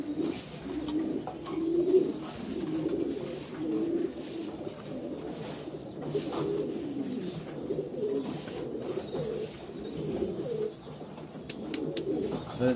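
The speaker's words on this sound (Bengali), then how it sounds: "দেখাচ্ছি কবুতর কিন্তু খাওয়ার জন্য পাগল হয়ে আছে।" Fancy pigeons, including blue bar beauties, racers and grizzles, coo continuously at a pigeon farm while eager for feed, a dense low rolling murmur with no talk.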